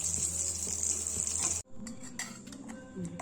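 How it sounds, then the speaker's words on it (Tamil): Curry leaves and chillies crackle in hot oil as a tempering for ridge gourd chutney, a bright steady sizzle that cuts off abruptly, followed by soft clinks of a spoon and vessel, close by with no talk. "கருவேப்பிலை எல்லாம் போட்டு ஒரு தாளி போட்டுரும் நல்லா பொரியட்டும்"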